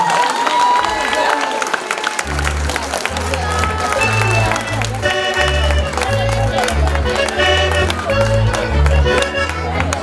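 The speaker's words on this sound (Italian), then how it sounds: "Un grande applauso!" An audience applauds and cheers for a traditional folk dance school at a fashion and archaeology event in Alà dei Sardi, the clapping and crowd noise blending under loud, rhythmic music with a heavy beat.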